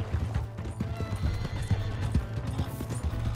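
A horse in Red Dead Redemption 2 clops its hooves in a quick, steady rhythm and lets out a neigh, heard up close over a busy game background.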